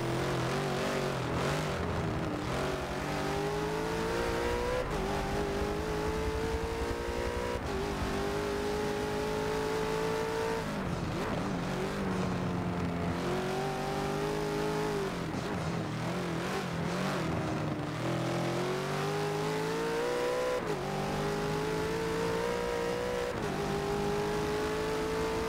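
Bentley GT race car engine in an endurance GT racing game at the Nürburgring, revving loudly and continuously with rising and falling pitch through gear changes and braking, no talk.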